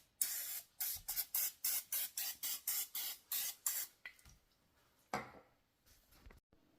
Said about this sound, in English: I've sprayed it with some butter spray